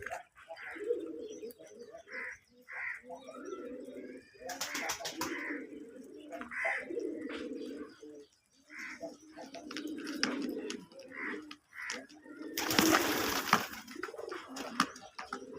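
Pigeons coo repeatedly in a loft with rhythmic, low, rounded calls that repeat throughout, broken by a few bursts of wing flapping and rustling. Someone speaks briefly in the background.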